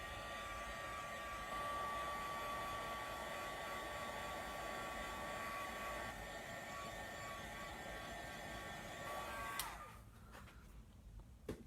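A hair dryer blows steadily at close range to dry watercolour on cardstock, a constant whooshing hum that cuts off near the end, leaving faint quiet rustling.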